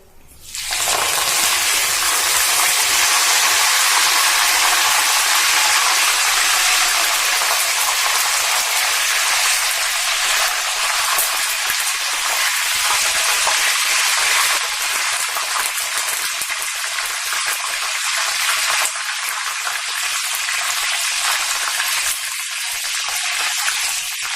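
Curry leaves frying in hot oil while making a South Indian mixture snack, a loud, constant hissing sizzle that runs nearly unbroken from start to finish.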